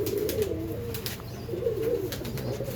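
Yellow Punjabi pigeons coo in low, soft, repeated throaty calls, close by, with faint background noise and no talk.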